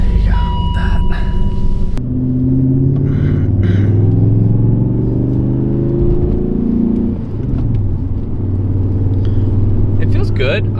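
A BMW E39 M5 fitted with new coilovers on a test drive: its engine rumbles loud and close, rising and falling as it accelerates and shifts, with a steady road drone underneath and brief voices at the start and end.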